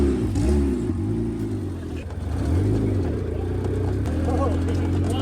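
A 1000HP Ariel Atom engine revving, with loud rising and falling engine tones and throttle blips up close, and a person talking over the noise.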